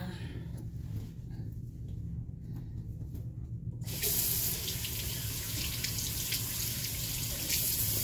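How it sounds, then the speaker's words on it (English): A tap runs into a sink during face washing, a soft water flow that jumps to a louder, brighter splashing stream halfway through and continues close by. "I'm washing my face now, guys."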